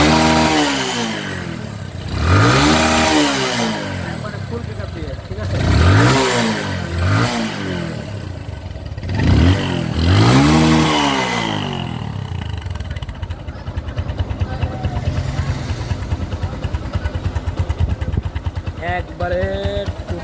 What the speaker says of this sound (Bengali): খালি ইঞ্জিনের ভিতর থেকে একবার স্মুথ সাউন্ড